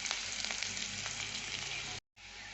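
Frying in a pan while preparing a green egg curry gives a loud, steady sizzle that crackles throughout, then cuts out briefly just before the end and resumes.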